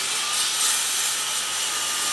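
A circular saw cutting through pallet wood, a continuous bright, hissing whine held at even loudness throughout, close and without talk.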